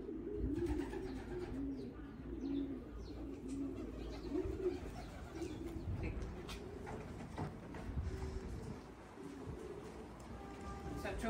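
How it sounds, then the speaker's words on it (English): Young racing pigeons coo close by in a loft, their soft, throaty calls repeating in a steady rolling rhythm, with faint chirps and light rustling in the background. "Two young pigeons we've got this morning from a person in Friesland"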